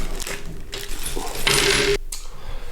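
A small plastic bag of metal screws, nuts and spacers for a VR gunstock is handled up close, with bright metallic clinks and jingles and a brief rustle as the parts shift inside.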